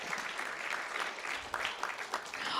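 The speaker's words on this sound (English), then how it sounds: "Let's give them all a round of applause." A faint, steady round of applause from an audience at a school board meeting honouring student artwork, with a few sharper individual claps standing out near the end.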